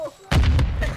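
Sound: gunfire in a video game

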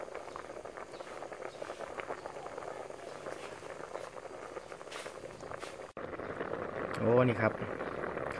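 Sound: mixed mushroom curry boiling in a pot

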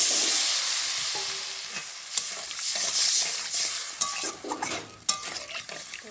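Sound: vegetables being stir-fried in a pan

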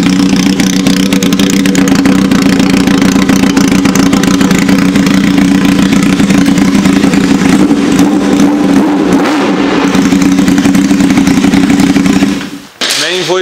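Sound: Honda Hornet motorcycle engine revving

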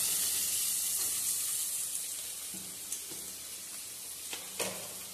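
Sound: small onions frying in a kadai

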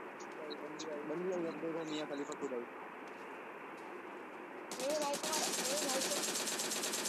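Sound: gunfire drop shot in the video game PUBG Mobile

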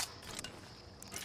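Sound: weapon reloading in Apex Legends video game

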